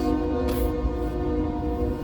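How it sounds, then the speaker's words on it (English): A loud train passes close by, its rumble steady throughout while a horn's sustained tones sound near the middle. "You got a little train coming, man."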